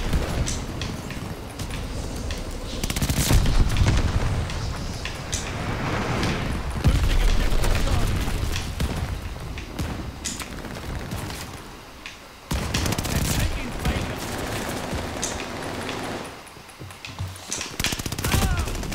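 Call of Duty Vanguard gunfire rattles in rapid automatic bursts, loud and close, mixed with occasional heavier booms and short lulls between volleys.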